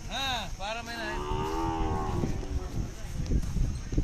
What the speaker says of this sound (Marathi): करजगी पुजारी यांच्या बैलाचा खोंड आहे.